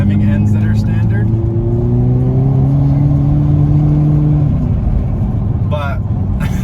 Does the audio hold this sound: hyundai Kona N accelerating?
yes